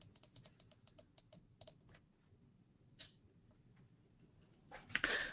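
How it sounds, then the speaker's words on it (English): A computer mouse clicks in a quick run of sharp, faint taps near the start, then sparse single clicks in a quiet room, ending with a brief louder rustle. "You'll probably hear a mouse clicking."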